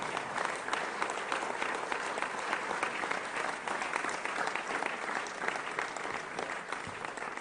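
An audience at a political speech by François Bayrou claps continuously, a dense, steady wall of applause that stays loud and even from start to finish with no voices standing out.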